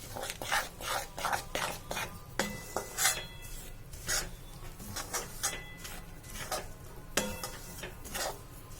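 Sesame-jaggery powder (tilkut) is mixed by hand in a vessel for til laddoos, producing close, repeated scraping and rubbing strokes in an irregular rhythm, with no talk.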